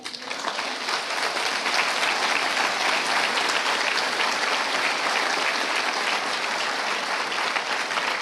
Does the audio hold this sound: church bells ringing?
no